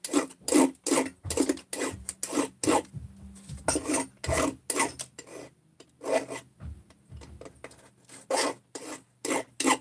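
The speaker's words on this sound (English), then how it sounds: "All I'm doing is just taking off some burrs here." A hand file rasps burrs off a metal crankcase part in steady back-and-forth strokes, about two per second, close and dry with no voices.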